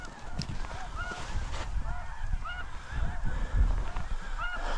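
A flock of snow geese honks steadily through a winter blizzard in North Dakota, many overlapping calls at middle distance, with low wind rumble underneath throughout.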